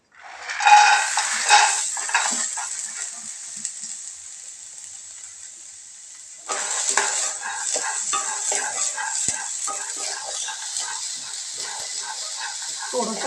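Soaked green mung beans and chickpeas dry-roast in a pan with a soft, steady hiss and occasional scraping stirs, a louder burst of sizzle and clatter returning midway before settling into continuous crackle.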